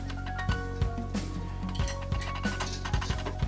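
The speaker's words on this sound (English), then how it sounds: "grab a knife, just spin it round in the brake hole." Metal knife tip scraping and clinking as it is twisted through griptape in a scooter deck's brake hole, a series of short irregular scrapes and taps repeating close by with no talking.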